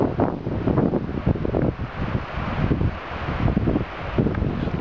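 Strong, gusty north wind roars and buffets the microphone continuously, with rushing, rumbling surges rising and falling throughout.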